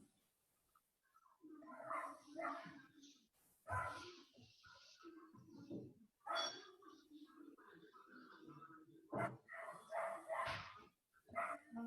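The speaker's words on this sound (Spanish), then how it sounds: "se escuchan los perritos nomás" Dogs barking in the background during an online structural-design class, a few yapping barks scattered behind a man's steady speech, faint and distant.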